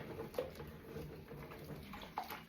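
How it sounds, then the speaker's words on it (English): A tinfoil quiche container being rinsed out under running water at a kitchen sink, giving a steady splashing wash with a couple of brief clinks and knocks of the foil, fairly faint and with no talking. "this is the tinfoil container that our quiche was in. Just give it a rinse out"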